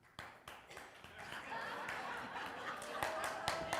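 A congregation claps at a Sunday church service, a few separate claps at first that swell into sustained applause mixed with chuckles and laughter.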